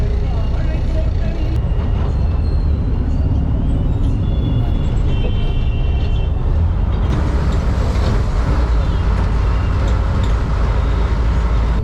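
Steady low rumble of a city bus idling and creeping through traffic in Chennai, with engine drone, road noise and a hiss of brakes throughout, fairly close.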